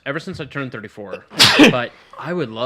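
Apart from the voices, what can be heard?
sneeze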